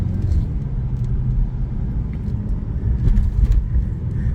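Steady low car engine rumble heard from inside the vehicle, close and continuous, with a deep droning tone and small swells, no talk over it.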